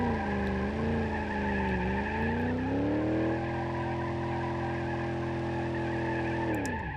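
A long, loud tire squeal from BeamNG, the pitch sliding and wavering before holding steady, layered over a droning V8 car engine.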